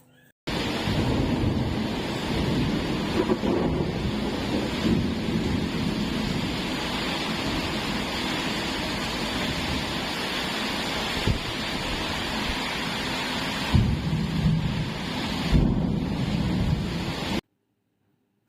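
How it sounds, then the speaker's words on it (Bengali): Heavy rain pouring steadily during a power cut, a dense and constant roar with low rumbles that fit thunder, cutting off abruptly near the end. "প্রচণ্ড রকমের বৃষ্টি হচ্ছে, সাথে বিদ্যুৎ চমকাচ্ছে, জোরে জোরে মেঘও ডাকছে।"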